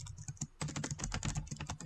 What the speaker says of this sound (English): The tapping of the keys sounds like a drum roll.